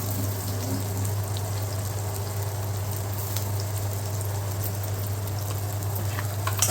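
Onions and green chilies cook in a pan for a mango and onion curry, giving a soft, even sizzle with a low steady hum underneath and faint stirring scrapes, with no one talking.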